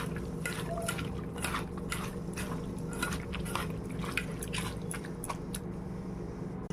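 Hands mix amudi fish in a bowl with mustard paste, spice powder, mustard oil, sugar and a splash of water, giving close, soft, wet squelches and squishes in a steady repeating rhythm, fairly faint.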